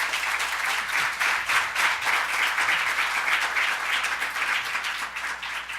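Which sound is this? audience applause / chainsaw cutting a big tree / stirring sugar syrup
audience applause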